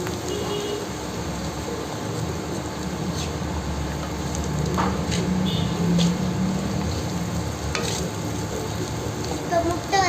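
Muttai podimas, scrambled egg with chilli powder, sizzles steadily in a pan while it is stirred, giving a constant crackling hiss with occasional scraping strokes.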